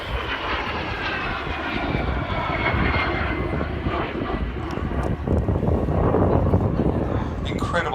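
A de Havilland Vampire T11 jet at an airshow roars steadily overhead, a loud sustained engine rush that swells slightly toward the end, with wind buffeting the microphone.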